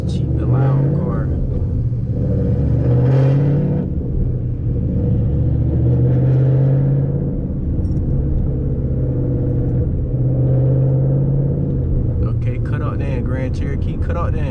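A loud Ford Mustang GT S197 rumbles and pulls steadily from inside the car on a city drive, a low, continuous engine drone beneath someone talking throughout.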